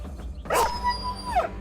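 A dog in the Battle Brothers video game gives a short, close yelp and whine amid combat, standing alone without talk.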